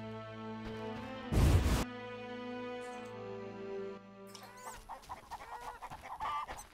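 Chickens clucking in the video game The Witcher, a few short clucks over a steady tonal game backdrop, with a brief loud burst and busier game sounds toward the end.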